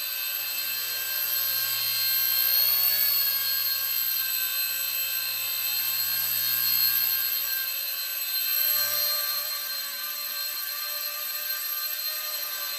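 A small battery-powered drone hovers and flies nearby with a steady, high-pitched motor whine whose pitch wavers slightly as it manoeuvres, continuous throughout with no voices.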